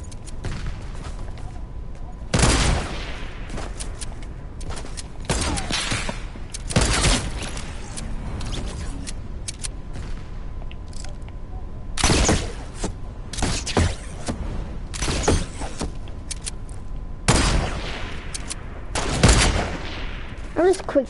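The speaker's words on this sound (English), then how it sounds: "Why are you both shooting at me?" Gunfire in a first-person shooter video game: several loud, sharp shots spaced seconds apart over a steady background hum, with players talking in between.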